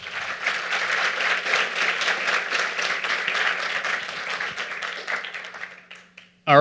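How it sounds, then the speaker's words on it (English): An audience at a tech talk on becoming a Lua superhero claps steadily for the speakers, a dense, sustained round of applause that fades out near the end before a brief sound at the close. "Uma salva de palmas para eles."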